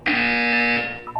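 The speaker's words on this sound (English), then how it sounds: "When you hear the buzzer, look down at the floor." A loud, steady electronic buzzer tone from the video game Portal 2 holds for most of a second, then fades out and is followed by two short, softer blips.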